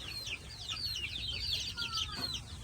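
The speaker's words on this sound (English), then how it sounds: "let the small chicks stay in here" Small chicks in a farm coop give a steady stream of soft high peeps and chirps, several birds overlapping at moderate distance over low background hum.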